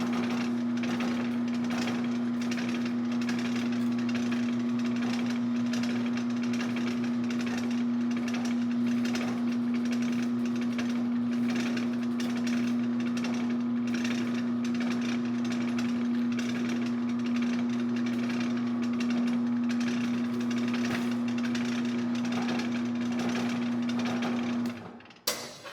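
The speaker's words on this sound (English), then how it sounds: "So we're going to drill this up." A power drill bores through strips of wood covered in tape for a pizza peel, giving a steady, close motor whine that runs without pause for about 25 seconds before cutting off abruptly.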